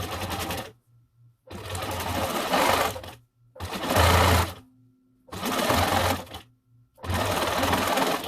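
A sewing machine runs straight stitches through curtain fabric for a ruffled pillow, in five steady whirring runs of one to two seconds each, separated by short pauses with a faint hum. Close and loud, with no talking.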